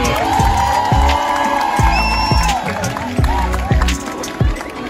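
Audience at a mushaira at Sargodha Medical College claps and cheers loudly, a close, steady wash of hands with thumping beats running through it, while a voice rises over the noise.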